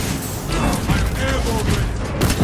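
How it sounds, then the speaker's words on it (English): A frag grenade goes off in Warhammer 40,000: Space Marine 2, a loud booming blast amid dense game combat noise, with a voice talking over it. "Throwing frag grenade."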